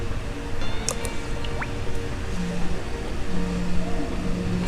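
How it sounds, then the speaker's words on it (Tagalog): A newly installed Bosch water pump switches on: water gurgles and drips steadily over a low mechanical hum, with occasional small splashes and no talking. "i-on ko yung pump para paikutin niya yung tubig sa makina"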